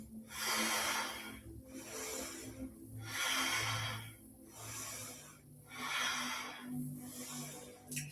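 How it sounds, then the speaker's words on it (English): Deep, slow breathing during Kundalini practice, with long rushing inhales and exhales alternating in an even rhythm, close and breathy, with no talk. "Inhale and exhale."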